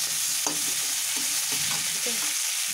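Cumin seeds and spices fry in hot oil with chopped tomatoes in a pan, a dense continuous sizzle broken by several scraping stirs of a spoon, close and loud with no voices.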